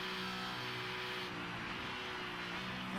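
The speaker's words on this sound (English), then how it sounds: "I can hear an engine very close to us." V8 race car engines in a Supercars racing simulator on the Miami road course, a continuous steady engine drone with sustained tonal hum, close and fairly even throughout, with no talking.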